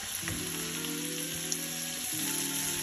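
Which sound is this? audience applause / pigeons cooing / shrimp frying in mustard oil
shrimp frying in mustard oil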